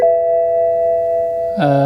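Dashboard warning chimes in a BMW 220i M-Sport after battery reconnection: a sustained electronic tone rings clearly, then a second, brighter chime sounds near the end, close and loud with no talk.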